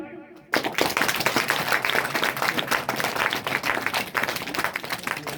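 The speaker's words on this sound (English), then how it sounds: "I request you all to have a big round of applause for him." An audience at a school farewell ceremony applauds a retiring teacher, a dense burst of clapping that starts abruptly after a brief quiet moment and carries on loud and steady to the end.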